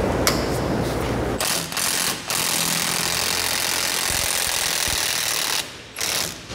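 A power tool whirs and rattles against a frozen bolt on a Ford F-150 SVT Lightning pickup, loud close grinding and hammering bursts broken by short pauses, with no talking.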